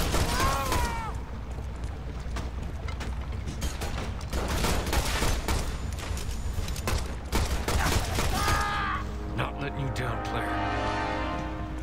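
Gunfire and mechanical clatter from the Shadow Complex Remastered video game come in rapid bursts across most of the stretch, loud and close, mixed with voices shouting in the game.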